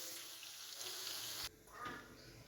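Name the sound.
water poured into pan of potatoes and bell peppers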